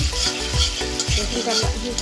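Chopped ginger and garlic sizzle in butter in a pan during a Chinese noodle cooking class, with rhythmic scraping strokes of stirring every half second or so over a continuous close fry.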